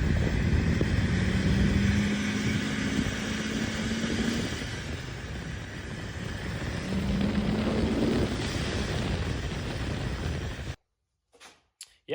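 An Exocet car with a supercharged LS engine drives past with a sustained loud engine roar and wind noise, the pitch rising twice under acceleration before the sound abruptly cuts to near silence with a few faint knocks.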